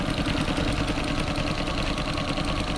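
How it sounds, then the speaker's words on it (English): Restored boat engine idling smoothly with a steady, even mechanical chug and a regular low throb, close and continuous, with no voices. "The engine is absolutely sweet."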